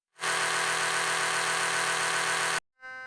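A Philips electric toothbrush runs with an even, close buzzing hum for about two and a half seconds, then stops abruptly, followed by a brief quieter tone.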